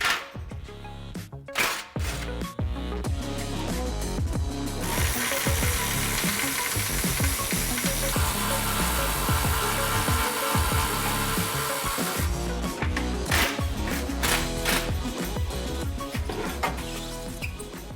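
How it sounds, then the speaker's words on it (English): A tool works on a 15mm exhaust clamp nut while the Flowmaster FlowFX stainless steel muffler is removed from an F-150 Raptor. A loud, continuous rough mechanical grinding runs throughout with rapid pulsing clatter, and there is no speech. "Loosen the 15mm nut on the clamp and remove the tailpipe"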